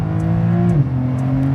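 A 2021 Porsche 911 Turbo S engine revs after a downshift, holding a loud, steady tone before a quick dip in pitch partway through, with the note settling lower afterward.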